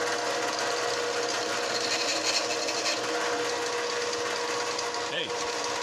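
A drill bores into wood while a wooden toy tool tote is being made, a steady whirring grind running throughout at close range, with a person speaking over it.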